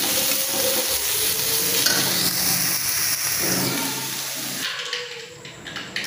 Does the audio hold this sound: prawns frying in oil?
yes